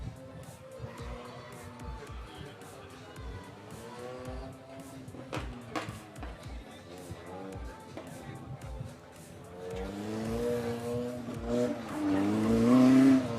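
A car on a regional autocross course is thrown into a handbrake turn, its engine droning and the tires skidding and squealing louder toward the end while a voice talks over it.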